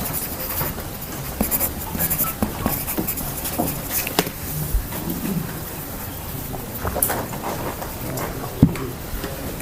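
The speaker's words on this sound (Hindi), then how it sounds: "सब हाथ सामने कलम पकड़िए, अपना नाम लिखिएगा" A pen writes a name on paper, quiet irregular scratching strokes with small taps, soft and close amid faint background hiss.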